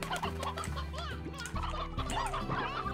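Hens in the video game Slime Rancher cluck and gobble in a busy, overlapping chorus, with repeated short calls over a low game background hum.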